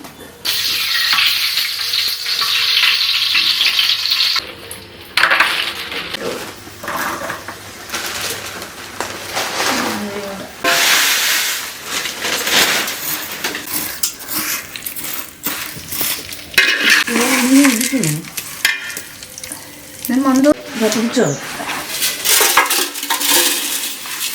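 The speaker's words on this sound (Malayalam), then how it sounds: "അങ്ങനെ ഉരുളി നമ്മൾ അടുപ്പത്ത് വെച്ചിരിക്കുകയാണ്. ചൂടായിട്ട് നെയ്യ് ഒഴിച്ചു കൊടുക്കണം." Ghee hits a hot uruli on the stove while payasam is being made, giving a loud, continuous sizzle mixed with metallic scraping and clinks of a ladle against the vessel.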